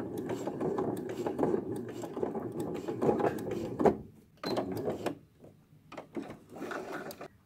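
A sewing machine stitches a fabric sunflower page for a children's activity book, running in a steady mechanical whir for about four seconds, then stopping and restarting in a few short bursts, close and fairly loud.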